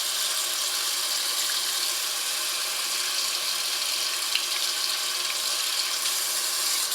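Hot water runs from a tap into a still-warm cast iron pan, a steady bright hissing splash lasting several seconds, close and even, with no voices.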